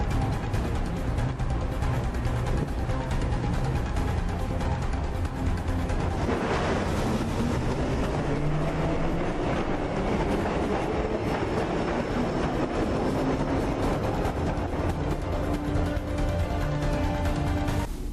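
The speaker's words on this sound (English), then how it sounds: "head for the metro. I'll hold the train for you." A metro train rumbles and clatters steadily in Assassin's Creed 3, with a dense, continuous roar and rising squealing tones from the wheels, close and loud throughout with no voices.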